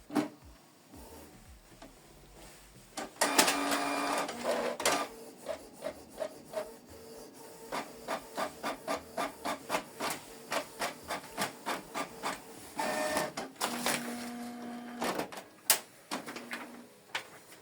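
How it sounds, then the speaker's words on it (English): A Canon Pixma TR4756i inkjet printer printing a test page, with rhythmic mechanical whirring, rubbing and clicking of the print head sweeping back and forth at close range, broken by louder feed bursts. "I want us to print a test page."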